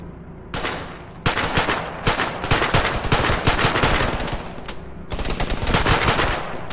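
Sustained automatic gunfire in the military shooter Arma 3, loud rapid bursts of rattling shots from about 1.3 s onward, with a brief lull near 5 s before firing resumes at close range.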